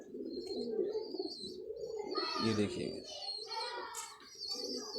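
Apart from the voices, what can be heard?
Ferozpuri pigeons cooing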